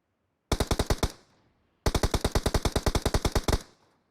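Automatic weapon fire in the PUBG Mobile battle royale game, two sharp rapid bursts, first about eight shots then a longer string of roughly sixteen, loud and close with a short pause between, no voices.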